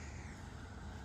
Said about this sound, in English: kind of see the one car going by there.